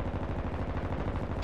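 Sustained rapid gunfire in a Call of Duty Warzone match on Vondel, a dense burst of shots that continues throughout and swells louder near the end.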